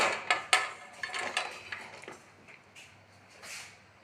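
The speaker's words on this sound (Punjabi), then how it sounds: "ਹੁਣ ਆਪਾਂ ਇਸ ਵਿੱਚ ਪਾਵਾਂਗੇ ਕੱਟੀਆਂ ਹੋਈਆਂ ਹਰੀਆਂ ਮਿਰਚਾਂ" Chopped green chillies tipped into hot oil for a dhaba-style fried green chilli masala, giving a few sharp clattering impacts of utensil on pan up front, then a softer, fading crackle.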